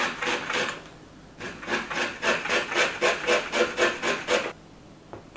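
Lemon zest being grated for a garlic, ginger and chili marinade for Thai-style salmon or chum salmon skewers: a quick run of about ten rhythmic rasping strokes, close and fairly loud, with a pause before a final scrape.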